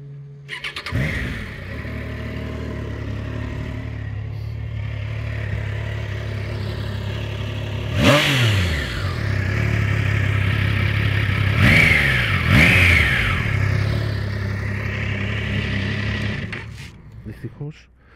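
A Triumph Tiger Sport 660 motorcycle engine is started and settles into a steady idle, then gets several sharp revs that rise and fall, with a person speaking nearby.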